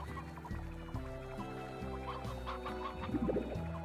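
Chickens clucking in the video game Slime Rancher, a steady cackling under game music and ambience with a brief busier flurry of clucks near the end.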